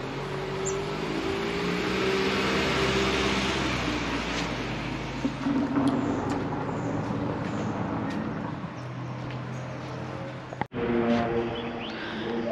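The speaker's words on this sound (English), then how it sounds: "we got the 1:21 p.m. Southern Cross service approaching platform number 1, and the leading set is a new generation Velocity" A V/Line VLocity diesel train pulls into the platform at Wyndham Vale station, a steady low engine drone and rolling hum growing over several seconds, with a brief clunk near the end; no talking.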